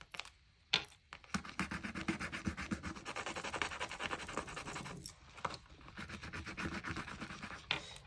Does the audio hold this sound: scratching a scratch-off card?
yes